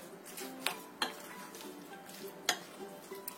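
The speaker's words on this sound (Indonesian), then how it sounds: "Kita aduk sampai tercampur rata semuanya." Spoon or spatula stirring snack batter of flour and cold water in a bowl, with a few sharp clinks against the bowl's side among soft, continuous scraping, close and fairly quiet.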